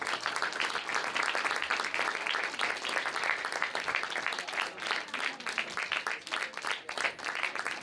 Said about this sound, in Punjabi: ਸੋ ਤੁਹਾਡੀਆਂ ਬਹੁਤ ਸਾਰੀਆਂ ਤਾੜੀਆਂ ਉਦੋਂ ਤੱਕ ਵਜਨ ਭਰ ਕੇ ਖਲੋ ਕੇ ਇਸਤਕਬਾਲ ਕਰੋ ਜਨਾਬ ਕੈਨੇਡਾ ਤੋਂ ਪੰਜਾਬ ਭਵਨ ਦੇ ਬਾਨੀ ਸੁਖੀ ਬਾੜ